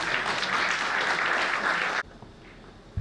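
An audience claps at an awards ceremony honouring Global Fund grant recipients in Côte d'Ivoire, steady applause for two seconds that cuts off abruptly into quiet room tone.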